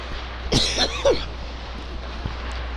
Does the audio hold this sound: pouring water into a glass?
no